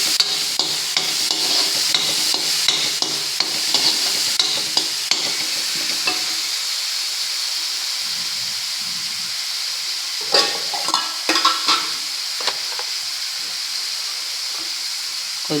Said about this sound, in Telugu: ఇలా స్మాష్ చేసుకున్న ఆనియన్స్ వేసుకుందామండి